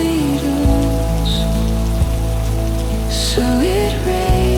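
Soft rain falls in a steady, even patter and hiss, close and continuous, with gentle sustained musical tones underneath.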